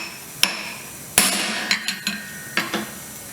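A brick chisel is struck by a hammer during the teardown of a Holden HQ sedan, giving about seven sharp metallic clanks spaced irregularly, close and loud against a quiet background.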